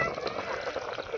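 Hot water pours steadily into a pot of simmering chicken curry being cooked outdoors, a continuous splashing gush that fills the short moment.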